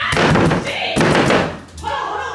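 Heavy fists bang repeatedly on a bathroom door in loud, close thuds, two strong blows followed by more knocking, with someone shouting over them.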